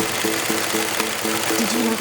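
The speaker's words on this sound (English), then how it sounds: "Did you like the sound of the sewing machine when they stitched the PVC together?" A sewing machine stitches PVC for a bouncy castle, giving a loud, fast, regular mechanical pulsing of about four beats per second over a constant hum.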